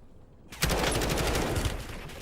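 Rapid gunfire from the video game Call of Duty: Warzone Rebirth erupts after a brief quiet moment, a dense burst of repeated shots at close range.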